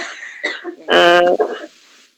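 A person coughs at home, a short burst of one or two harsh coughs with a throat-clearing quality, close and fairly loud, with a soft vocal sound just before and after.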